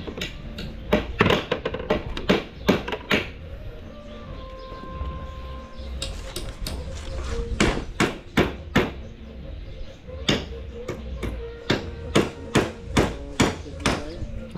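Nails are hammered into wood while building perch boxes for a pigeon loft: loud, close metallic strikes in quick clusters, pausing and resuming, with a faint tonal whine in the background.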